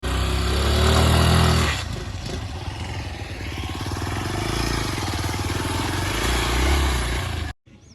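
Suzuki Access 125 scooter engine straining up a steep off-road slope near a lake, a steady loud mid-pitched drone with a rougher burst at the start, cutting off abruptly at the end.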